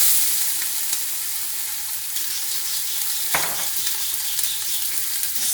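Diced onion sautés in a few tablespoons of hot avocado oil, a steady bright sizzle with a brief clatter of stirring partway through.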